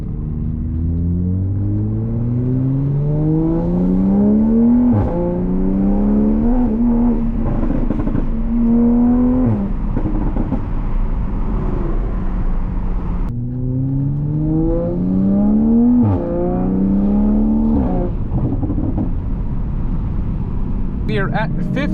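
A Toyota MK5 Supra, at 50,000 miles, leaving a car show with traction control on, revs up through repeated rising gear pulls, each climb ending in a shift before the engine winds up again, loud and close from inside the car.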